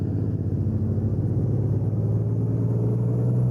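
A heavy truck engine in American Truck Simulator drones in a steady, deep rumble, loud and close, holding an even low idle with a faint whine above it for the whole stretch.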